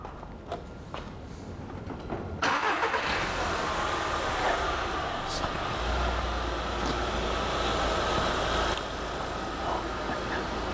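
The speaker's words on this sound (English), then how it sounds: "we're going to start up the car" A car engine cranks and catches, then settles into a steady idle that holds for several seconds before the tone shifts slightly, with a few faint clicks and handling noises nearby.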